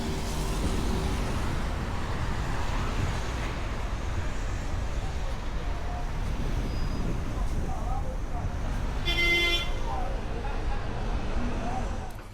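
Cars rumble past on a busy Casablanca street, a steady close traffic roar with a short horn blast near the end, and voices talk faintly underneath.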